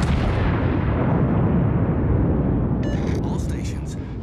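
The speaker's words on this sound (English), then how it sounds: "All stations, concentrate fire on the target." Heavy naval gunfire from the battleship Missouri in a video game, a loud, sustained booming rumble that fades slightly, with faint higher crackles near the end.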